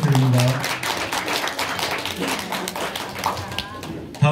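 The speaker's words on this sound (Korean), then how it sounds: "박수 부탁드립니다." An audience at a volunteer award ceremony applauds, a dense continuous clapping that stays fairly loud throughout, with voices mixed faintly underneath.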